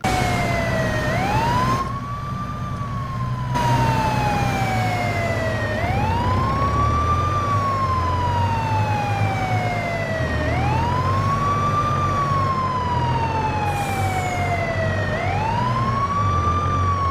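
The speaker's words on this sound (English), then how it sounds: "Wow, this is ambulance guys." A cartoon ambulance siren wails loud and close, rising and falling in slow repeating sweeps over a low vehicle rumble, with no talking.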